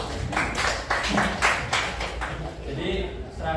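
Students in a classroom during a micro-teaching lesson clap their hands in a quick, rhythmic series of bursts, with voices faintly underneath.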